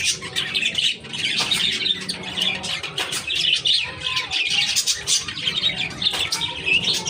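Frightened pet birds in a cage chirp and squawk rapidly and continuously, close and loud, with overlapping tweets and a few cooing notes.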